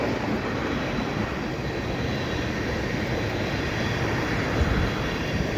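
A CN freight train made up of tank cars rolls past a footbridge at Des Sources Blvd in Dorval, a steady, loud, continuous rumble and clatter of wagons that holds level throughout with no pauses.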